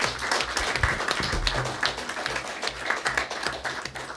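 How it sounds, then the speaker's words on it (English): Audience applause welcoming panelists at an evening panel discussion on school exclusions and criminality, a continuous moderate round of clapping from a room-sized crowd. "give our panelists a big round of applause"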